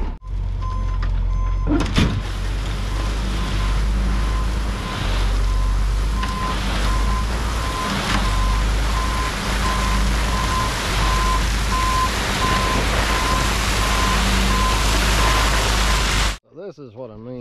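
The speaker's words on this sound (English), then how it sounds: "I'm just going to put it in low reduction in reverse and more or less let it idle along." Dump truck idling backward in low reduction reverse on muddy ground while building a driveway, with a steady low engine rumble under a regular, evenly spaced reversing beep that runs until the sound cuts off near the end.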